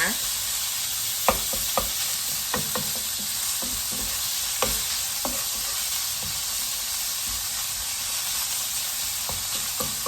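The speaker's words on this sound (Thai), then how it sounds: "ก็ผัดเลยนะคะ แบบต้องรีบคนเลยค่ะ เพื่อให้หมูนะคะ แตกออกจากกันเป็นก้อนนะคะ" Minced pork is stir-fried quickly in sesame oil in a pan, making a continuous bright sizzle with scattered sharp spatula taps and scrapes throughout, no voices.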